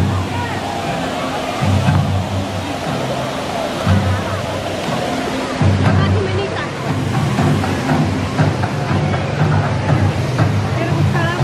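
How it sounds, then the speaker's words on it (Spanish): Broad, steady wash of churning water from a wave pool at a water park, roaring continuously at close range with a low rumbling swell, while people chatter nearby. "Ahí ahorita va a salir las olas."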